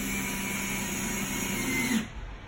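A power drill whirs steadily close by while driving a black screw into a door hanger during prehung door installation, rising slightly in effort before stopping abruptly, leaving a low rumble.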